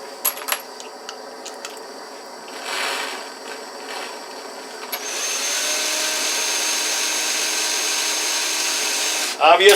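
A few light clinks and knocks, then a power drill starts up midway and whirs steadily at close range until the end, during rifle cartridge reloading.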